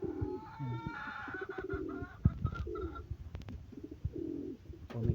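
Young pigeons coo in repeated soft, throaty phrases close by, with a few short clicks and rustles between the calls.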